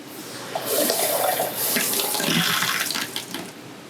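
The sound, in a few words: water running from RV sink faucet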